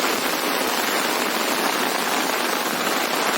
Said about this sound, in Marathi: इथे पाऊस आणि वाऱ्याचं प्रमाण जास्त असतं